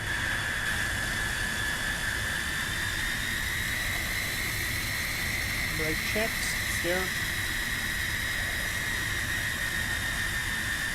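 Steady Tu-134 jet engine whine and hiss from the cockpit in X-Plane 12, constant and moderately loud, with someone speaking briefly over it and a few faint clicks.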